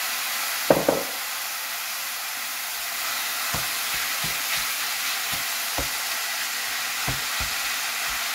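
Minced meat pieces fry in a pan with grated zucchini and carrot, giving a continuous, even sizzle throughout, broken by scattered wooden knocks and scrapes from stirring.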